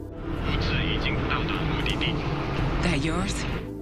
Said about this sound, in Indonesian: mereka melihat sebuah pesawat melintas